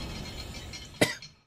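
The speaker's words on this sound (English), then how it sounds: "I've been coughing all day." A single sharp cough bursts out briefly from a person playing a video game, standing out over faint background sound.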